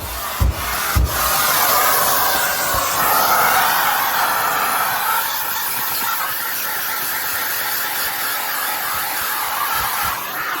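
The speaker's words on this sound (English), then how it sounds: "I guess we should vacuum this too." A vacuum cleaner drones steadily at close range in a workshop being fitted into a Lamborghini, starting after a couple of sharp knocks and holding a continuous whooshing hum with no talk.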